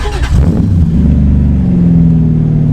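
A V8 engine swapped into a Nissan S14a 200SX, a 1UZ, revs loud and close, a short rasping blip that settles into a steady, throaty idle-level drone.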